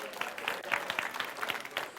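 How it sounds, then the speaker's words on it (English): Brief applause from an audience of kids and parents at a children's story-time event, light quick clapping with chatter mixed in. "Can we give Abby and the Dan Bot a big round of applause?"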